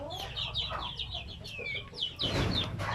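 Native chickens about two months old, recently let out of their pen, cluck and chirp repeatedly at close range in a rapid, overlapping chorus, with a louder burst of calls near the end.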